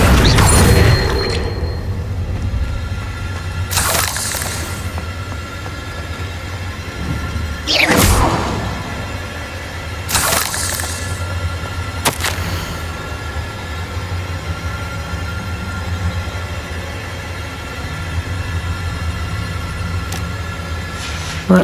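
Confringo blasting spells going off in Hogwarts Legacy, several sharp, loud explosive bursts spaced a few seconds apart over a rumbling, mechanical game ambience.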